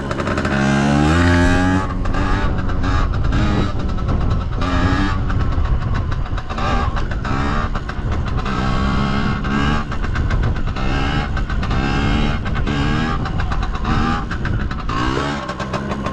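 A small Chinese 80cc two-stroke pit bike with a three-speed semi-automatic gearbox, its engine buzzing loud and near, revving up and down repeatedly with sharp rises and drops in pitch.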